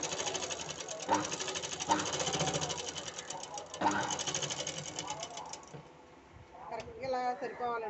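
An old sewing machine stitches a blouse, its rapid needle chatter running fast and close with a few heavier thumps before slowing to a stop, followed by a voice talking.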